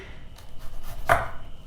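A single knife cut through the tough woody end of a vegetable for aloo gobi matar, one short crisp chop on a board standing out above low kitchen background.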